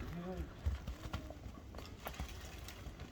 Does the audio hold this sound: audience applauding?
no